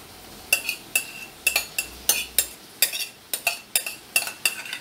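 Carrot being added to a pot of arroz carreteiro and stirred, a spoon clinking and scraping against the pot in a steady run of about a dozen sharp, close strikes, with no talk.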